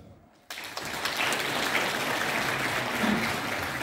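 Applause at a chamber of commerce awards event in Botoșani, Romania, a crowd clapping from a large hall that starts suddenly and carries on as a steady wash to the end.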